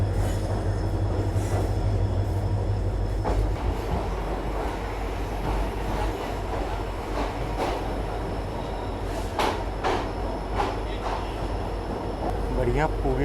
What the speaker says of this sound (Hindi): फाइनली अपना अराइवल हो रहा है रंगापारा नॉर्थ रेलवे स्टेशन में